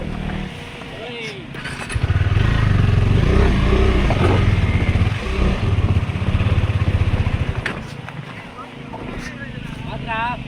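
A motorbike climbing a rough hill trail near Sadasivam Kona waterfalls, its engine droning loud and close throughout with rising revs and clattering, while people shout and talk over it.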